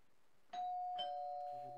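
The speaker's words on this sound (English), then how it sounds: "It's still early when you hear your doorbell ring." A doorbell rings once with a clear two-tone chime, bright and ringing out after quiet, heard alone at close range.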